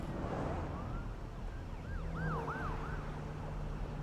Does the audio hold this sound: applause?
no